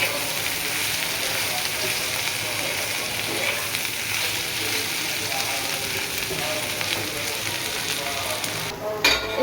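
Okra sizzles steadily in a hot frying pan, a close, continuous crackle of frying with little variation and no speech over it.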